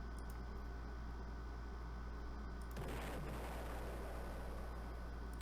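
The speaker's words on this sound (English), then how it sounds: "Am I gonna be able to find a 1 second long explosion?" Explosion sound effect played through a computer for a homemade stream alert: a steady low hum first, then a sudden loud blast at the midpoint that crackles and rumbles as it fades, with no voices.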